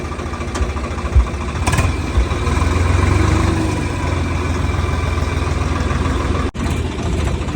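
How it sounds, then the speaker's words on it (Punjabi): A tractor engine idles nearby, a steady low mechanical rumble that holds evenly throughout, with a few brief knocks and clatters over it and no talk. "ਉਹ ਵਧੀਆ ਟਰੈਕਟਰ ਬਾਈ ਦਾ ਨਾਲੇ ਮਸ਼ੀਨ"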